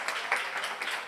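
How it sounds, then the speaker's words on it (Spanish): Audience applause for a guest speaker at a self-esteem talk, a dense, steady patter of many hands lasting throughout with no pauses, moderately loud and slightly distant. "vamos a darle un aplauso a Maritere"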